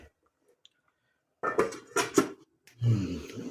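A lid goes onto a pot of chicken curry with potatoes, giving a few close metallic clanks and knocks of cookware after a quiet pause, followed by a rougher scrape.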